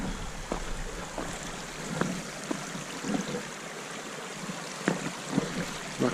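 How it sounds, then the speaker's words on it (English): A creek flows over rocks at a trail crossing just past a campground near Taum Sauk Mountain, Missouri, a soft steady rush of water with occasional small splashes and clicks. "I'm going to do a nice little creek crossing just past a campground."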